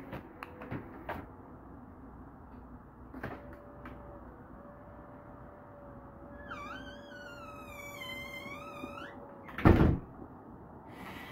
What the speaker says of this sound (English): if I press it twice, my door will close.